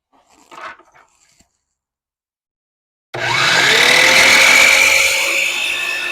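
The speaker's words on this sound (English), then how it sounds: "so now we're going to cut this piece" A power saw cuts through a length of crown moulding, starting abruptly after a short silence and a few faint handling knocks, then running loud and steady as a whining buzz that rises in pitch across the cut.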